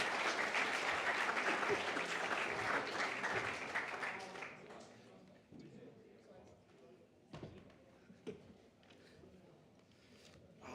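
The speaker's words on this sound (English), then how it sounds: "So could we please big round of applause for Dre and the co-chairs" Audience applause at the First Nations Media Awards: loud, dense clapping from a large crowd for about four seconds, then dying away into scattered claps, thuds and low murmuring.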